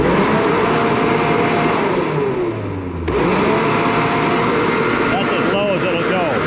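An industrial-strength Toro machine's engine runs steadily at barely cracked throttle, a loud continuous mid-pitched drone with slight pitch wavering and a brief dip partway through.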